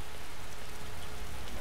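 Rain falls steadily in the video game Skyrim, a constant broadband wash of droplets with no speech over it.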